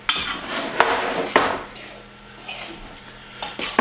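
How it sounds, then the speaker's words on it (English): A metal spoon clinks and scrapes against a bowl while dry carrot cake ingredients such as baking soda and salt are stirred, giving a few sharp close taps amid soft scraping. "Go ahead and stir that up with that spoon there"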